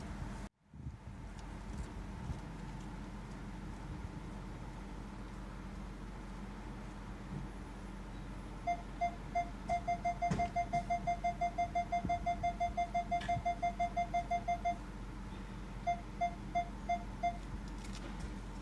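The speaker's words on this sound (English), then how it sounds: "the closer I get to the backup camera, the louder it beeps" A 2018 Hyundai Kona's parking sensor beeps steadily, then the beeps speed up into a rapid run as someone walks up behind the car, then fall back to slower beeps, all fairly quiet.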